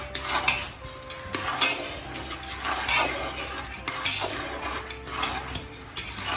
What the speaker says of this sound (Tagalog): Ganyan lang po ang pagprito ng mani.